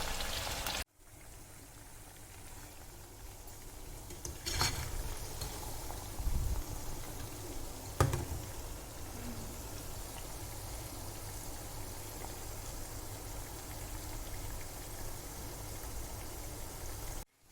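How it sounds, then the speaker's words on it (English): Chicken 65 pieces frying in hot oil in a pan, a steady broadband sizzle and bubble with a few louder crackles and spatters, continuous and close throughout. "Just need to fry it."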